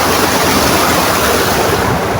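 River water rushes in a loud, steady, broadband roar near Puning Cave in Doña Remedios Trinidad, Bulacan, continuous and close with no voices.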